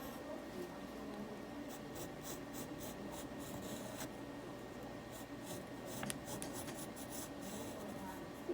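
A pencil draws a Bugs Bunny cartoon on paper, making a steady, close, soft scratchy rasp of graphite strokes that runs continuously with faint clicks scattered through it.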